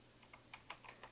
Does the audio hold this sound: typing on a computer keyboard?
yes